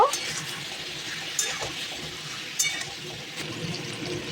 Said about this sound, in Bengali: এবার আলু ও ডাঁটাগুলো ভাজতে দিলাম।